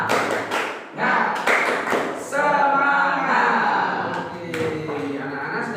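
Children clap together in a short rhythmic tepuk semangat spirit clap in a classroom, sharp bursts of claps mixed with an adult voice speaking and group chanting.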